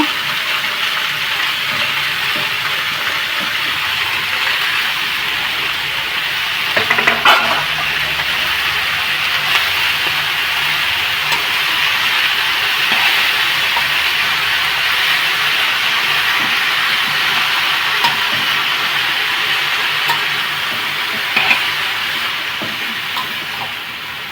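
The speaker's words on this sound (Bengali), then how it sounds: "এবার শাকগুলো দিয়ে দেবো" Burmese shak leafy greens hit a hot pan and sizzle in a steady, loud broadband hiss that holds for the whole stretch, with a couple of brief sharper crackles partway through.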